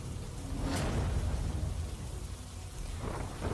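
Heavy rain falling in Dadra and Nagar Haveli, a dense, steady hiss of downpour with low rumbling beneath it and no voices.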